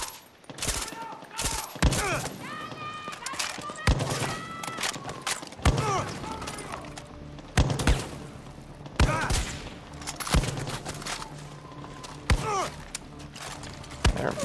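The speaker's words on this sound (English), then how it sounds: "But now he's shooting at me." Far Cry 6 video game gunfire: repeated sharp shots and bursts crackle throughout, interspersed with thumps and game effects, fairly close and loud.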